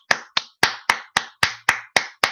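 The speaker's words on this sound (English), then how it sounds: "I'm going to give everybody a clap." A single person claps nine times in a steady, close and crisp rhythm, each clap sharp and distinct with brief silence between.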